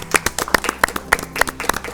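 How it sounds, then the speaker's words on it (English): A quiz final audience claps for a competing team in a small, close group, with distinct, sharp individual claps falling in a loose, quick rhythm and no voices. "A large round of applause for Janatantra."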